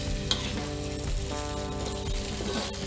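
Sea snails sautéed in a pan until crisp and golden for a soy-sauce dish give a steady, close sizzle and frying crackle for the whole stretch, with a faint tonal layer running underneath.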